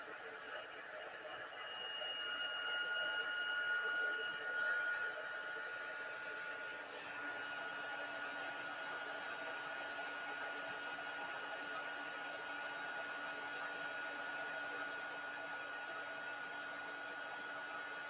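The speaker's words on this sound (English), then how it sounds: "I like to heat up my tool for a few seconds." An embossing heat tool blows a continuous airy hiss with a faint whine as it warms up, steady and moderately quiet throughout.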